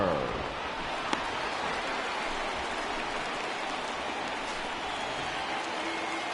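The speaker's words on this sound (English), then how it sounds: "that rain is really coming down right now" Heavy rain pouring during a baseball game in MLB The Show 20, a dense steady hiss of downpour filling the whole stretch, constant and loud with a single brief click near the start.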